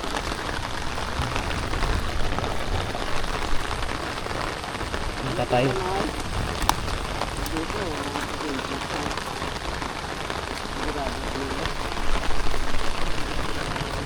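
Steady rain falls on rice paddy embankments throughout, a dense hiss with some louder patter, while a voice speaks briefly over it.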